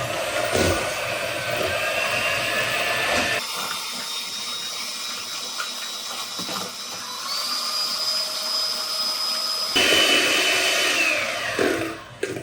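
An electric hand mixer whips cream in a bowl for tiramisu, a loud, steady high-pitched whine that shifts in pitch a few times as the beaters work, close and uninterrupted by talk.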